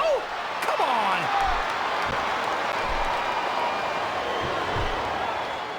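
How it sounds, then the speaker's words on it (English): Crowd noise from a Smackdown vs Raw 2007 wrestling video game, a steady arena roar filling the whole moment with a few thuds and swooping effects near the start, no talk over it. "Sounds like this crowd's got something on their minds, King."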